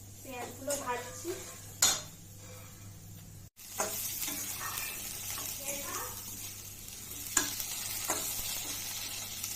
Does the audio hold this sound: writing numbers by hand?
no